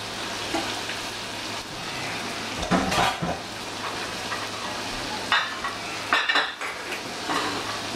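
Shrimp and calamari frying in a pan, a steady close sizzle with occasional metallic scrapes and clinks of a utensil stirring against the pan.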